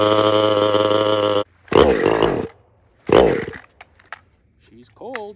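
A cold chainsaw with the choke on sputters through attempts to start: one long steady engine roar, then two short harsh bursts separated by silence, and finally faint rising sounds at the end.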